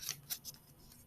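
A knife slices through a stick of butter at a tablespoon mark, making a few short, soft, close scraping cuts in quick succession, with no voices.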